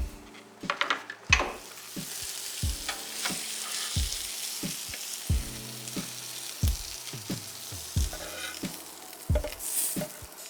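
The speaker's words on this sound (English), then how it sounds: "we're going to take a little bit of butter and we're going to grill it on our Sabre grill" Snapper fillet with butter sizzles steadily on a Sabre grill. Frequent clinks and scrapes of a utensil against the grill come through close by.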